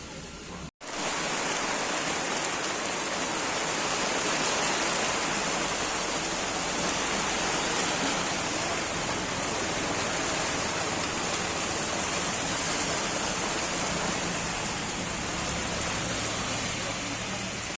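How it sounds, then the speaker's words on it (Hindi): Heavy monsoon rain pours down steadily in Deoghar during the Shravani Mela season, a dense, loud, unbroken hiss that fills the whole stretch after a brief pause at the start, with no clear talk over it. "जोरों की बारिश हो रही है।"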